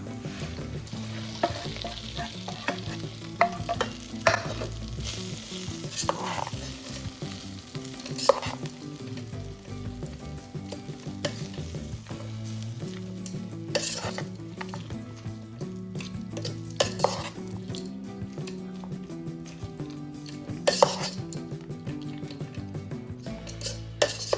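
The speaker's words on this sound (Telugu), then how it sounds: "పోపట్టి అలా ఫ్రై అయింది, సో తీసుకొచ్చి దీంట్లో వేస్తున్నా" A fried tempering with asafoetida is tipped into tamarind rice and mixed, giving soft sizzling under repeated scraping and stirring of a spoon against a pot, with occasional clinks, steady and close.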